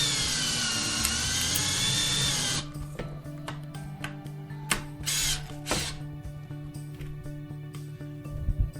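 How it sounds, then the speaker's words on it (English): An 18-volt Ryobi cordless drill driving a screw, its loud whirring motor running steadily for a few seconds and then cutting out, followed by a series of close, irregular clicks and knocks. "The Ryobi can definitely drive it in there."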